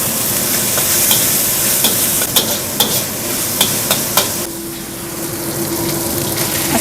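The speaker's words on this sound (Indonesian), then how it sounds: "Sekarang saya tumis ayamnya." Chicken stir-fried in a pan with garlic and shallots gives a steady, close frying sizzle, with a run of sharp utensil taps against the pan in the middle and no talking.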